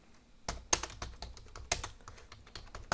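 Fingers type a short file name on a computer keyboard, a quick run of close, crisp key clicks with a couple of louder taps standing out, no voices.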